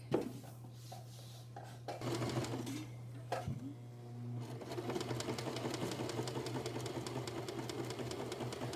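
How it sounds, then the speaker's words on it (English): A sewing machine stitches along the edge of pyjama pants to form an elastic casing, starting with a few short bursts and then running steadily and close by, with no talking. "you're going to put the pants in and you're going to sew along the edge so that you form a pocket for your elastic"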